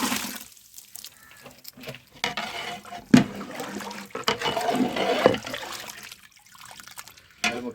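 Water is poured into a large pot of mutton biryani, a 6 kg batch cooking over a wood fire, heard up close as splashy pouring and trickling in uneven bursts with short pauses between.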